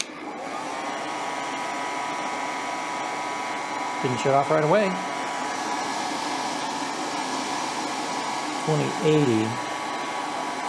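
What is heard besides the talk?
dryer running as overload on a 2000W inverter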